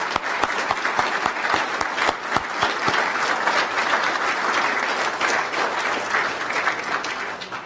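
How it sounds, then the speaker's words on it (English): An audience at a law faculty event breaks into sustained applause, a dense, loud wash of clapping that begins with distinct claps and stays steady throughout, without speech on top. "I think they deserve a big round of applause"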